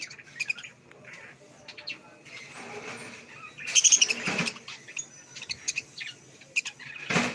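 Small birds chirp and tweet repeatedly up close, with a burst of busier chattering partway through.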